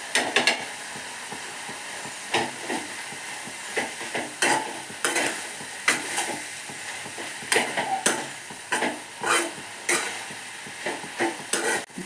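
Banana stem stir fry with grated coconut stirred in a pan, repeated scraping and clacking strokes of a spatula over a soft sizzle, fairly close and irregular.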